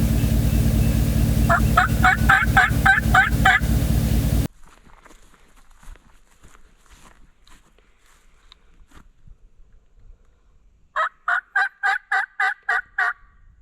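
Wild turkeys gobble in two bursts of rapid rattling calls, the first partly under a loud low rumble of engine or wind noise, the second clearer and more distant-sounding after a quiet stretch.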